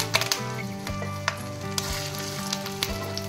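Bhetki fish parcels wrapped in banana leaf fry in hot white oil, making a loud, continuous sizzle with crackling bursts and a few soft knocks of the parcels against the pan.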